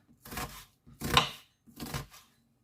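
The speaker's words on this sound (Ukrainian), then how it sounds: "Ось так нарізаємо цибульку на засмажку" Onion chopped on a board ahead of frying, three separate, fairly soft thuddy cuts spaced about three-quarters of a second apart, nearby and quiet, with silence in between and no voice.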